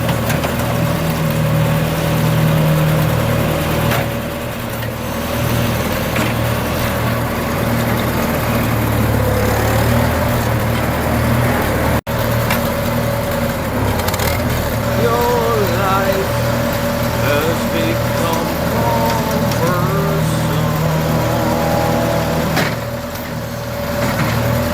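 Farmall 400 tractor engine running at low idle while its Hydra-Touch hydraulics lift a load, a steady low rumble throughout with a person talking over it.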